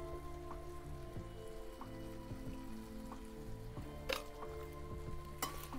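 A vegetable dish being stirred in a pan, with a soft continuous sizzle of oil, light scraping and occasional clinks of a spoon against the pan.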